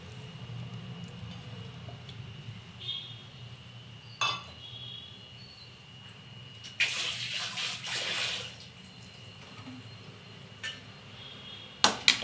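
Hot water is poured into a pan of chicken gravy with tomato puree: a short gushing splash over a low kitchen hum, with a few light clinks of utensils around it.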